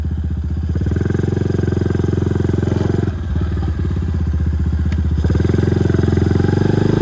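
An Icebear Champion 125cc motorbike, a CT70 clone with a centrifugal clutch, putters along at low speed, a loud close steady engine thrum with slight dips and rises in revs and no talk.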